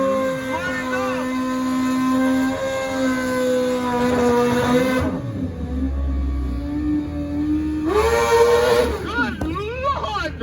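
Motorcycles at a drag racing test-and-tune event, including a 1,000 cc bike, hold loud sustained engine notes that climb in pitch through rising revs, dropping briefly before another hard rev, with excited talk over them.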